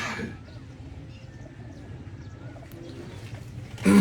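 Pigeons coo softly at rooftop level while a flock of about 105 is released, low murmuring calls under faint background noise, with a louder burst of sound at the very end.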